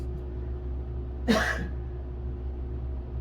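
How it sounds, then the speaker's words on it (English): A single short cough bursts out against a low steady hum, otherwise quiet. "I'm coughing all of a sudden"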